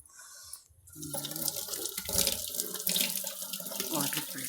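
Water gushes from a tap into a container, starting after a brief quiet moment and then running loud and steady with a splashing, filling tone.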